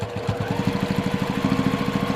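A sewing machine stitches quilt binding on a Bargello quilt, a fast steady mechanical chatter with even repeating pulses, close and loud throughout with no talk.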